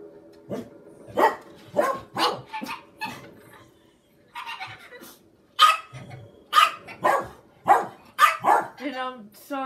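Dogs bark in sharp bursts, several in quick succession with a pause midway, close and loud against faint background game sound, with no clear talk.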